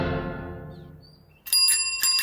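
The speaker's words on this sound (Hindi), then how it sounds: "पियून के साइकिल की घंटी।" A peon's bicycle bell rings sharply in quick repeated trills, bright and close, after a fading low tone and with no talking.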